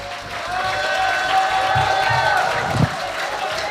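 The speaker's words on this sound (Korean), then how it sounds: "큰 박수 부탁드리겠습니다" An audience at a lecture event welcomes a lawyer to the stage with a dense, moderately loud wash of applause and some crowd murmur, holding steady for a few seconds with one brief louder burst near the end.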